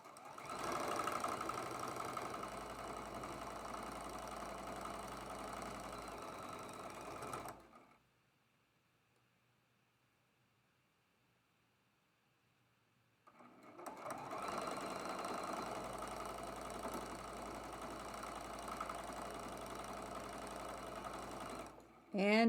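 Sewing machine stitching quilt block seams together for traditional quilt blocks, running steadily for several seconds, pausing briefly, then whirring again close by with a continuous mechanical hum.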